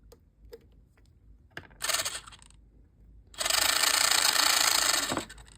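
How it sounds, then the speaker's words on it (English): A small battery-powered motor drives a pin dispenser mechanism, whirring in two bursts: a brief buzz near the start, then a louder, steady run of about two seconds that cuts off abruptly, with no talking. "So you can see if I apply a battery to our motor,"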